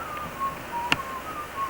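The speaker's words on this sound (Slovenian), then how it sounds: "Žvižganje se čuje od našega ata, ki dela svinjsko kuhinjo." A man whistles a thin, wavering tune in short held notes at a moderate distance while preparing pig feed in a farmhouse kitchen, with one sharp click partway through and a quiet room hush underneath.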